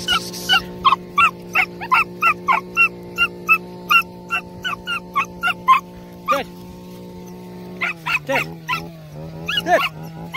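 Terriers barking and whimpering during rat hunting among bales, a rapid regular run of sharp close yaps over a steady low engine hum, then a pause and a rougher cluster of barks and whines near the end.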